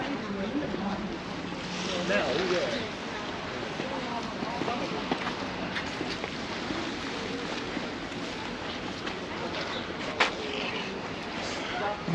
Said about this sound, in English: glass bottom boats coming round now